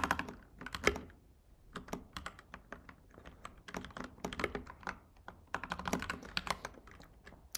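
Code is typed on a computer keyboard in quick irregular bursts of crisp close key clicks, with short pauses between flurries.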